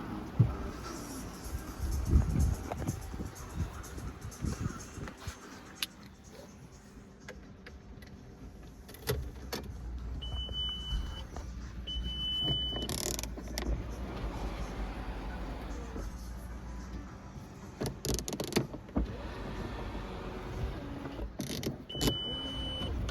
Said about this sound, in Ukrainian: Автомобіль у нас з люком. Люк відкривається в двох різних положеннях.